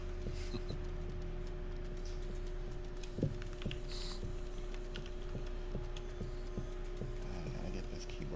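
Soft, steady clicking of a computer keyboard runs throughout at a moderate distance over a constant low electrical hum, with no talking.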